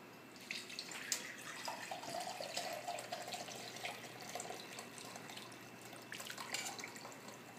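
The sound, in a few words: pouring chicken broth through a fine mesh strainer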